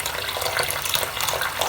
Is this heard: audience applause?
no